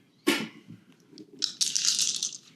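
Coins rattle and clink inside a purse, a sharp crunchy burst followed after a pause by a longer bright jingling shake, close and fairly loud.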